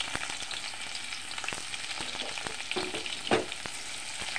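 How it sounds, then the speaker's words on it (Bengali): Chopped onion fries in hot oil in a wok, giving a continuous bright sizzle with sharp crackles and a few stirring clicks, close and fairly quiet. "এখন পেঁয়াজ কুচি দিয়ে দেবো।"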